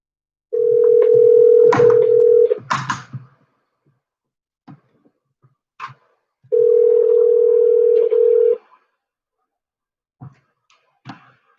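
A telephone dial tone sounds while Google Voice connects a call: two long steady tones a few seconds apart, loud and clear, with short clicks and knocks between them and no speech.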